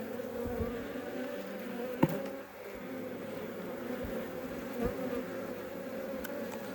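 Honey bees buzz in a steady, dense drone during a colony removal from a shed floor, with a few soft knocks and handling sounds in between.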